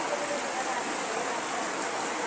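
Rain falls steadily outdoors as an even, continuous hiss of drops, moderately loud with no clear breaks.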